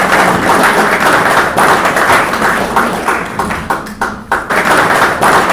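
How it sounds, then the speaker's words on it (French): Applause from a conference audience comes as dense, loud, continuous clapping that swells and dips briefly before carrying on, with no speech over it. "On va applaudir."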